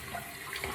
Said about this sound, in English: So I'm turning the water on